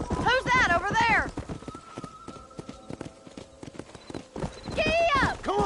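Horse hooves clip-clop steadily in the Red Dead Redemption video game, a rapid trotting rhythm up close, with voices talking over it at the start and end.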